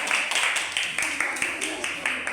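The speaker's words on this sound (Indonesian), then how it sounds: "tepuk tangan sekali lagi untuk kelompok 2" A classroom of students applauding a group after its work, with steady, fairly fast clapping from many hands spread across the room. Voices run underneath the applause.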